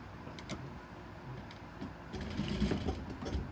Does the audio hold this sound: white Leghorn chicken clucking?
no